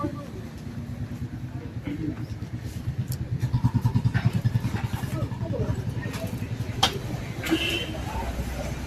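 Royal Enfield Bullet motorcycle with a newly fitted aftermarket silencer idling nearby, a steady low thumping exhaust beat that rises briefly, with a person talking over it.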